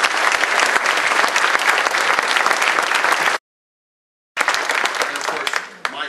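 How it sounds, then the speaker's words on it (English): Loud, sustained audience applause at a San Jose mayoral debate, a dense crowd clapping for several seconds, cutting off abruptly, then resuming after a brief silence. "Let's give them a big round of applause."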